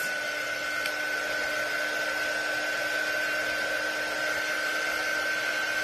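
A hair dryer blows steadily on wet, mended paper, a loud constant whoosh with a faint whine that holds unchanged throughout, with no talking.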